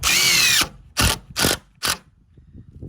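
A hammer drill runs in a short whirring burst, followed by three quick, sharp taps as the fastener is driven home into deck framing, close and loud.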